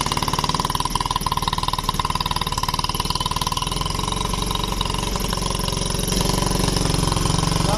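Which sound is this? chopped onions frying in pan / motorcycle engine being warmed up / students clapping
motorcycle engine being warmed up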